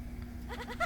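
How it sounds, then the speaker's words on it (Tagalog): A goat gives one short wavering bleat near the end, moderately close, over a steady electrical hum on a live radio broadcast, with no talk. "Ang kambing."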